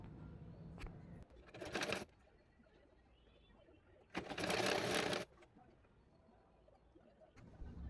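A sewing machine stitches an attachment onto a dress in two short, loud runs of rapid whirring, separated by a quiet stretch with faint handling sounds.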